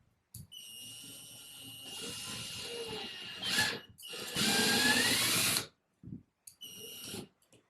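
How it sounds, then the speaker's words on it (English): Power drill boring a hole in a wall to mount a houseplant shelf, a whirring buzz in several bursts with brief pauses between, close and fairly quiet with no talking. "And drill in the hole."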